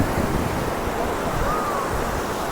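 Surf washes onto a beach at the Tip of Canada in Point Pelee National Park, a constant roaring wash of waves mixed with strong gusting wind buffeting the microphone.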